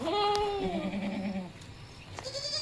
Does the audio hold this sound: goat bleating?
yes